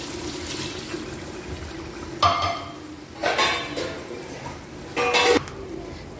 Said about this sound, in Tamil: இதுக்கு வந்து மூணு தண்ணி இப்போ வைக்கணும், நான் வைக்கிறேன்